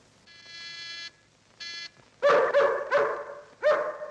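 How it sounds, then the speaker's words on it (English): A guard dog in an old Sherlock Holmes mystery film barks several times, loud and close, with a few sharp woofs echoing after an earlier pair of steady electronic tones. "Don't like the sound of that dog."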